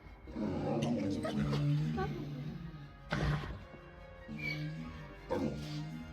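The three-headed dog Cerberus in the video game Hades II growls, whimpers and gives low barks in short bursts, with a deep rumbling tone and pauses between sounds.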